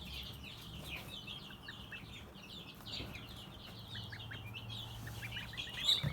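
Faint high peeping from newly hatched Kholmogory goslings, many small chirps scattered over a quiet background, continuous and soft.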